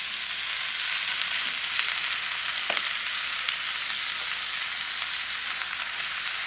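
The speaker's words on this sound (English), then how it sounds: "We're just gonna pan fry that with some onions and mushrooms." Moose steak pan-fries with onions and canned mushrooms, giving a loud, steady, close sizzle that runs without a break and is marked by a few faint pops and clicks.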